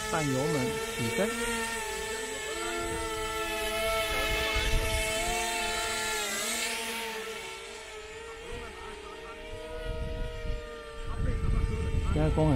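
Electric motors of a W500 VTOL drone rise in pitch as they throttle up for takeoff, a loud layered whine with shifting tones in windy conditions, while people talk over it.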